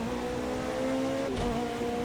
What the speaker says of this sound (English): Sounds like this one actually has a V6 in it